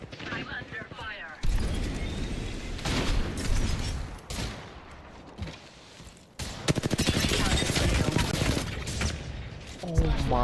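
Rapid automatic gunfire and bursts of shooting in Apex Legends, loud dense volleys filling most of the stretch with a brief lull midway, while a player talks over the combat.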